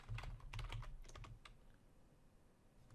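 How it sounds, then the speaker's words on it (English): Quick clattering keystrokes on a computer keyboard as the ipconfig command is entered in Windows PowerShell on a server, a close burst of taps for about a second and a half, then fading to quiet room hum. "So I'm going to go to PowerShell, and in PowerShell, I'm just going to type ipconfig."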